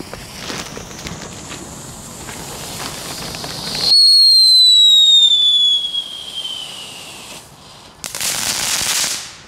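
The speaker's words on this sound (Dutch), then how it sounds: "De oelala's, zo, die gaat echt de lucht in" Oelala fireworks launched in a residential neighbourhood: a loud crackling burst, then a rising whistle streaking up for several seconds before fading, followed by another sharp crackling burst.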